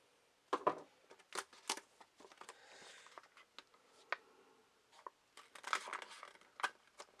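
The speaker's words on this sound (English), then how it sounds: "they did put a piece of tape on the bottom there that has to be cut. So let me go ahead and cut that." Scissors snip through tape on the bottom of toy packaging for a Transformers BotBots figure, with a quick series of close, sharp cuts and crinkling plastic rustles, alone and fairly quiet.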